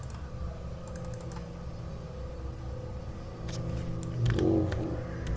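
Typing on a computer keyboard while a new JSP page is set up in a Java web project, a scatter of light clicks and a short burst near the end over a steady low hum.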